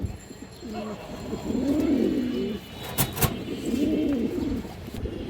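Large red chulli pigeons give two rounds of soft, rolling coos close by, with a sharp knock between them and a faint hiss in the background.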